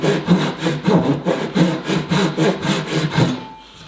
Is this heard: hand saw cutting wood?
yes